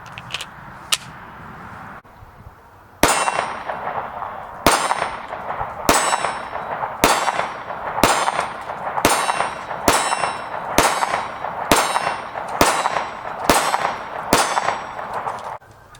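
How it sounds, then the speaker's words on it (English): Taurus G2C 9mm pistol firing 115-grain brass-case ball ammunition with an aftermarket trigger, about a dozen sharp, loud shots at a steady, unhurried pace, the first two quieter and spaced apart before a regular string of reports. "These are going to be the first shots."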